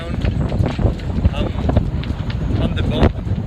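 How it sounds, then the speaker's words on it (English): Strong wind roars across a sailboat's microphone at sunset, a dense, steady buffeting with gusty thumps throughout, while a person talks over it. "It's so windy."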